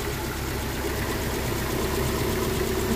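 A Rover P6 engine idles in a steady, even rumble with a faint rhythmic tick running through it, heard close up and alone.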